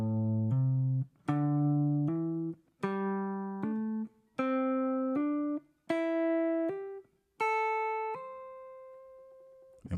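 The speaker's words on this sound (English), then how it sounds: "So hammer on down and then pull off" An unaccompanied guitar plays a slow minor pentatonic run with hammer-ons and pull-offs, the clean single notes stepping upward in pairs. Each picked note slides smoothly into the next legato note, with brief silences between the pairs.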